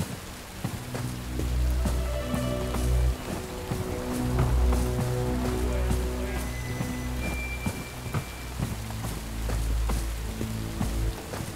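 Rain falls in the action shooter Bright Memory Infinite, a steady patter of drops on surfaces layered with deep rumbling game ambience and scattered impacts, fairly loud throughout.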